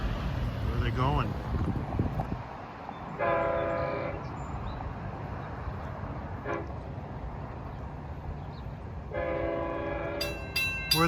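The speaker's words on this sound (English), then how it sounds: "Comes train 20, Penn Station to Montauk." An LIRR Montauk Branch train from Penn Station passes the Snedeker Avenue crossing in Bayport, its horn sounding in two distinct blasts over the rumble of railcars, with a voice speaking near the start.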